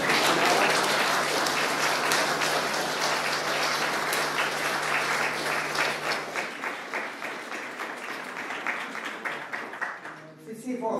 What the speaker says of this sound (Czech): jo, zatleskáme